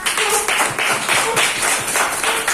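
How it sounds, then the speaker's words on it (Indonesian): A classroom of students clapping their hands together: several loud bursts of rapid, crowded claps, close by, with short gaps between them. "Oke, tepuk tangan dulu untuk kita semua."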